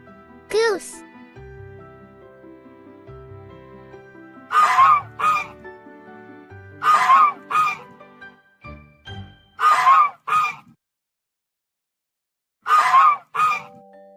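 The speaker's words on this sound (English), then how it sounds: "Goose." A goose honks in repeated paired bursts, loud and close, separated by quiet gaps with a light musical bed underneath.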